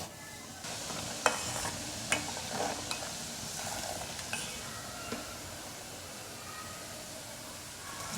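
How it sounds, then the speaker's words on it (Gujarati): Fenugreek seeds and ground whole spices are stirred in hot oil over a low flame for gunda pickle. A soft, steady sizzle runs throughout, broken by light scraping clicks of the spoon against the pan. "આ રીતે કન્ટિન્યુ ચલાવતા આપણે ગોળાને તૈયાર કરવાનો છે"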